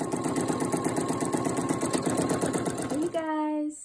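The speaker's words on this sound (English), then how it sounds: "when you put it into your machine, you're just going to make sure the little dot lands on here" An embroidery machine stitches a hooped T-shirt in a fast, steady, mechanical chatter for about three seconds, then stops and a short electronic tone sounds.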